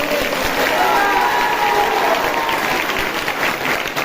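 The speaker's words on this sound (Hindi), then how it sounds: "करने वाले दिल से जोरदार ताली बजाएं" A church congregation claps loudly and continuously at a Hindi-language worship service, dense sustained applause with some voices mixed in.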